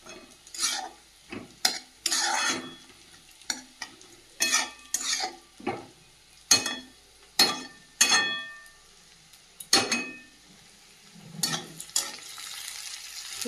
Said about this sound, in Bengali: এরকম ভেঙে দেবো আলুগুলো।